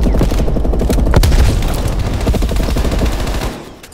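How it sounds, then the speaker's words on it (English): A grenade blast with a heavy low boom in Call of Duty Cold War beta multiplayer, landing amid continuous loud automatic gunfire that keeps rattling before tapering off at the end. "Throwing grenade"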